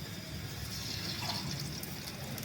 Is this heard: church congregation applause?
no